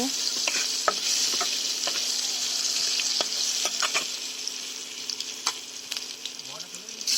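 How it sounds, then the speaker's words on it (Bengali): Bay leaf, dried chillies and cumin fry in oil with a continuous crackling sizzle, punctuated by sharp pops and a few taps of a stirring spoon, with no talking. "দিয়ে দেবো তেজপাতা শুকনো লঙ্কা জিরে কিছুটা নেড়ে নেব"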